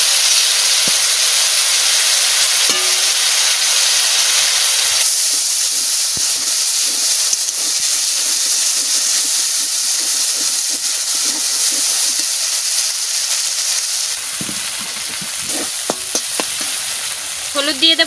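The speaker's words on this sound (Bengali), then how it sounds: "যে মশলাটা বাটিছি ওই মশলাটা আমি তেলে করে দিয়ে দিচ্ছি" Ground spice paste drops into hot oil with a loud, steady sizzle and hiss that continues without a break. Frying for a fish masala dish.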